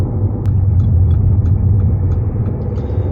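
A Mercedes-Benz GLA 220d diesel car drives along with a steady, loud low rumble of engine and road noise from inside the cabin, with a few faint ticks over it.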